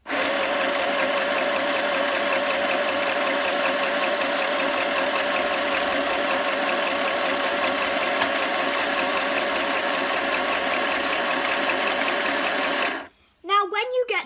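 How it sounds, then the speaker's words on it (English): Close, loud sewing machine stitches cushion fabric in one unbroken run of whirring needle strokes, then stops abruptly, leaving a brief faint murmur at the very end. "To sew, you will need a sewing machine or a needle to sew by hand."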